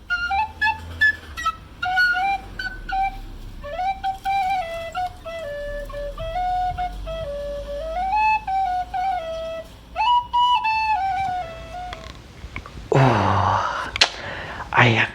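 Tin whistle played by a beginner, a thin breathy melody of wavering, uneven notes with audible breath and pitch slips, close and alone, ending in a burst of noise.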